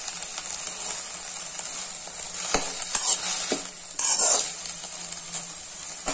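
Manathakkali greens sautéing in a kadai, a steady close sizzle with intermittent spatula scrapes and stirring knocks, louder hissing bursts near the end, no voices.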